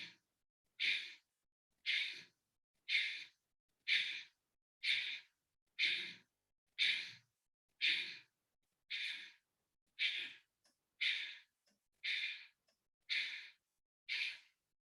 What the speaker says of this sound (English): then we are breathing out, breathing out